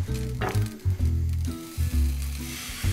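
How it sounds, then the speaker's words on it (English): Pancakes sizzle in a hot frying pan, a steady crackling hiss with bumps and low scraping clatter as they're moved around, close by. "we've got a nice little sizzle there"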